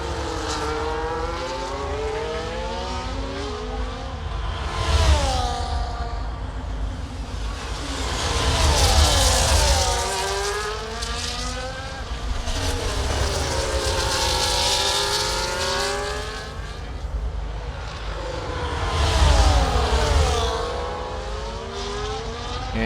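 Onboard F1 race car engine in the F1 24 video game at Circuit Gilles Villeneuve, Montreal: a loud, sustained high-revving engine scream that climbs and drops through gear shifts and braking for the hairpin, with no talk.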